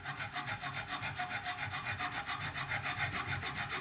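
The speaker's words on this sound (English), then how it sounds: "The key when you do some filing like that," Metal file rasping across a vintage Atala bike frame in steady back-and-forth strokes, close and continuous with an even rhythm throughout.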